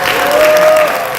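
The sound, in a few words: audience applause at a book concert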